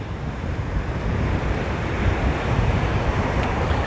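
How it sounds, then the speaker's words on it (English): Ocean waves wash onto the shore at Pacifica, California, in the evening, a steady dense roar of surf mixed with wind rumble, continuous and fairly loud with no voices. "You like the sound of the ocean"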